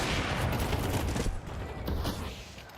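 Rapid automatic rifle fire from a FAMAS and an AK-47 trading shots in a Counter-Strike professional match at a Major tournament, dense overlapping bursts up close that thin out partway through.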